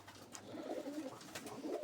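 Pigeons coo softly nearby, a few low, throaty calls rolling over each other against quiet background noise.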